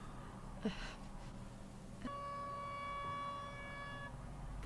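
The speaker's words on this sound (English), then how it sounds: "sounds like the noise that old war sirens would have made" A steady multi-tone drone like an old war siren starts partway through and holds at a constant pitch, faint against a low background rumble.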